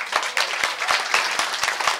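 Audience clapping for an instructor after a beginner student troupe's performance, a steady patter of many hands from a modest crowd, fairly close and continuous.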